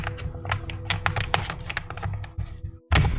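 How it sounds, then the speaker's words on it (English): A deck of tarot cards is shuffled, a dense run of quick riffling taps and flicks up close, ending in a louder thump as the cards come together. "It's dangerous for me to shuffle my cards like this"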